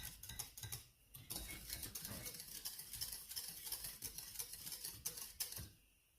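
Faint clinking and scraping of a utensil stirring cream in a pot, steady and continuous with small metallic taps.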